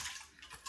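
Liquid poured off soaking seeds from a sprouting jar, a brief splashing trickle with a couple of louder gushes, close and alone.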